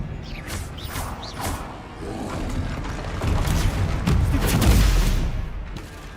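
In Hogwarts Legacy an Expelliarmus spell is cast amid combat, with rumbling booms, mechanical creaks and crackling impacts building to a heavy thud near the end, loud and continuous.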